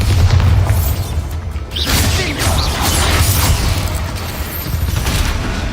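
Bombarda spell explosion in the Harry Potter: Hogwarts Mystery video game, a loud booming blast followed by crashing, rumbling debris that fills the clip.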